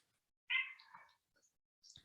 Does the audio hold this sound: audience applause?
no